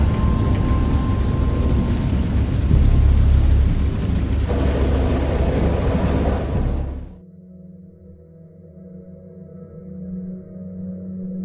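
Heavy rain pours with deep rumbling thunder in the horror video game Dagon, loud and continuous, then cuts off abruptly partway through, leaving a faint low hum.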